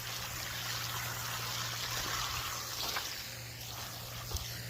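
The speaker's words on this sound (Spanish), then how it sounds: "Esto lo llamaríamos fuente. Una fuente, ¿ok? So, it's splashing." Water splashing steadily in an outdoor fountain, a dense continuous wash of spray with a low steady hum underneath and no speech.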